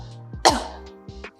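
Patient coughing during a urodynamic test in a clinic, one sharp, close cough followed by quieter breathy throat sounds.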